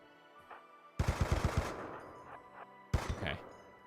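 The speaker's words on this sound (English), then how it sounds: "Oh my god, that machine gun's killing us all." Machine gun fire in the video game Rimworld, two bursts of rapid, punchy shots, the first longer, with quieter game sounds in between.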